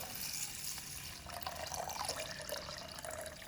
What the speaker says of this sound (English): So I'm going to go ahead and pour in the water.